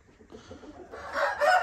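A rooster among backyard-raised chickens crows once, a short rising call that builds over about a second and a half and stands out over faint ambient noise.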